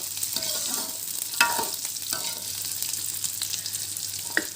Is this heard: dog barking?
no